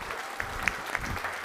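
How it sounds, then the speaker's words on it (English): Quiet applause from a seminar audience welcoming a speaker to the stage, a soft steady patter with a few sharper individual claps standing out. "Big round of applause."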